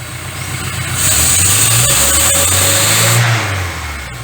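A carbureted engine revs up slowly under gentle throttle, rising and holding a steady mid-pitched drone before easing off, loud and close with no talk.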